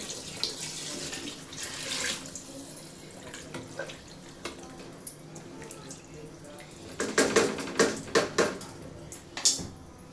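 Water is poured from a glass into a pot of rice for vegetable pulao, coming as soft intermittent splashes and trickles close by, then heavier bursts of pouring toward the end.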